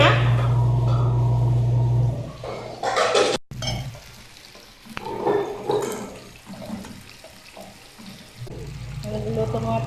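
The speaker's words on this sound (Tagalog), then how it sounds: "Nagluluto muna tayo ng ulam natin sa tanghali" A lunch dish frying in a pan in a home kitchen: continuous close sizzling with stirring and scraping, some faint voices in the background.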